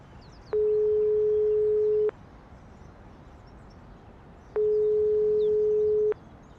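An unanswered phone call ringing in the Broken Sword 5 video game: two long, steady electronic ring tones, each about one and a half seconds, separated by a pause of silence.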